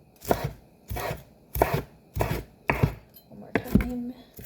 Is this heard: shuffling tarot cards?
no